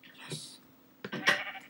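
A sheep in Minecraft bleats twice in short, bright cries a moment apart, heard fairly close and moderately loud against a quiet background.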